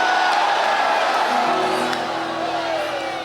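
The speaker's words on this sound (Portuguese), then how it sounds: "Dê um grito de glória a Deus aí." A church congregation shouts and whoops in unison to glorify God, a loud broad roar of many voices that swells at once and slowly fades.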